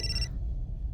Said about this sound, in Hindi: मेघा का फोन।